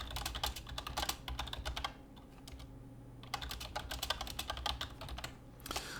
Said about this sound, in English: In fact, let me type it.